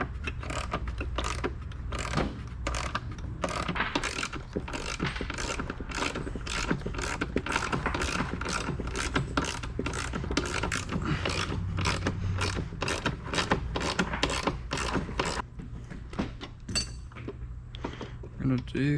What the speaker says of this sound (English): I'm taking off this front latch. It's just 3 8mm screws.